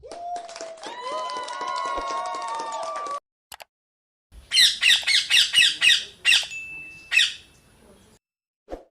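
Parrot giving a burst of loud, close squawks in a quick series of harsh calls, after an opening stretch of a higher, warbling voice.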